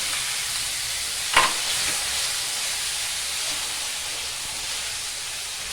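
Chopped tomatoes go into a frying pan with ginger, setting off a loud, steady sizzling hiss, with one sharp splash-crackle as they land and then continuous frying.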